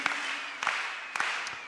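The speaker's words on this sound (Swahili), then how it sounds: "Tungempigia Bwana makofi mengi kabisa mazito matatu" A church congregation gives three heavy claps in praise, evenly spaced sharp strikes over a reverberant hall background, fairly faint and brief.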